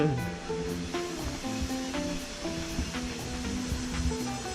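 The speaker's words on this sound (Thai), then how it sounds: "ยินดีต้อนรับเข้าสู่น้ำตกเจ็ดชั้น แห่งหมู่บ้านเปงเต้า" The seven-tier waterfall at Peng Tao village near Keng Tung, heard as a steady broadband rush of falling water. It stays constant and fairly close, with faint tonal sounds over it.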